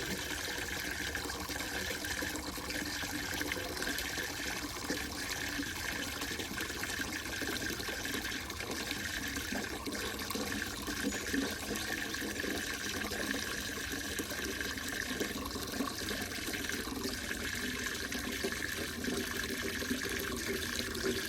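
Tap water runs steadily into a gallon container for over twenty seconds, a continuous close splashing fill with no talk over it.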